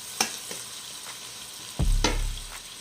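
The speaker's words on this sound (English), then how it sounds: "I'm going to add our onions. I'm going to stir them up for a few minutes." Onions stirred and fried in a pot for chicken and rice soup, with a soft sizzle, a few faint utensil scrapes, and a louder stirring scrape near the end.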